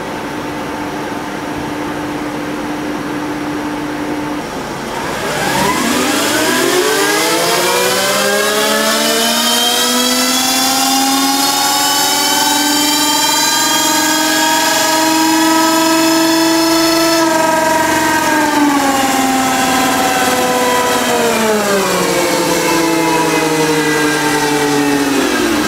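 A quad's engine revving hard on a dynamometer bench: a steady idle for several seconds, then a loud sweeping rise in pitch that holds at high revs before easing down in stages.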